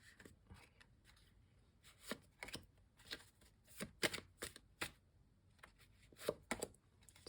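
Tarot cards are shuffled by hand in a quiet room, a series of crisp riffling bursts and soft slaps arriving in irregular clusters, close and fairly soft.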